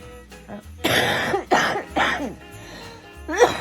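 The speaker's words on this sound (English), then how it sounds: "Still coughing." A person coughs in close, harsh bursts, about four separate fits spaced through the moment, each a rough, throaty hack with quiet breaths between and no talking.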